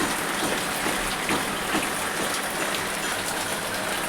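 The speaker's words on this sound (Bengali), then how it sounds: "দেখো বৃষ্টি শুরু আমাদের এখানে" Steady rain falling outside a home on a cloudy day, an even, continuous hiss of drops close by with no voices over it.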